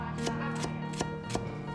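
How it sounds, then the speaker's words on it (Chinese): A kitchen knife chops fresh ginger into slices on a cutting board, about five crisp, evenly spaced strikes close by, quiet and without talk. "生姜适量切成姜片，稍微拍一下"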